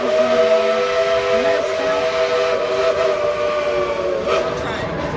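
A steam train whistle at Dollywood blows a long, steady chord, loud and sustained, with hissing steam and rumble beneath it.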